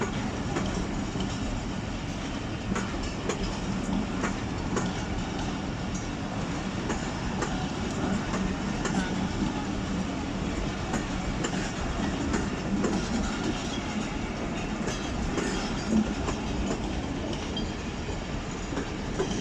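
The Fareed Express passenger train rumbles along the rails from Lahore toward Karachi with a continuous heavy roar and faint rhythmic clatter of wheels, heard steadily from inside the carriage throughout.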